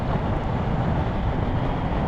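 A 2020 Kawasaki ZH2 motorcycle engine running at around 4,000 RPM, a steady, loud low drone mixed with rushing wind noise, with no break over the couple of seconds.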